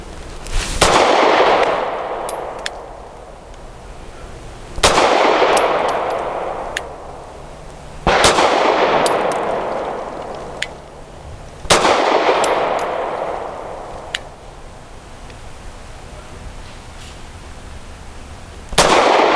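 Grand Power P1 Ultra pistol firing at steel targets, five loud sharp shots spaced a few seconds apart, each followed by a ringing metallic clang and a long outdoor echo trailing off.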